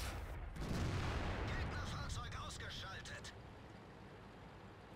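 A tank cannon fires in the World of Tanks game, a single heavy boom with a rumbling tail that fades over several seconds, followed by a sharp click at the end.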